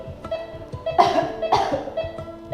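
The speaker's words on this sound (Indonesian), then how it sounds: "latihan batuk efektif ini bisa kita berikan 2 atau 3 kali" A patient gives two forceful coughs in quick succession as an effective cough exercise, close and fairly loud, with quiet room sound around them.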